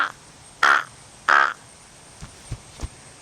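A voice mimics a crow, giving two loud, harsh caws in quick succession, followed by a few faint clicks, with no other talk.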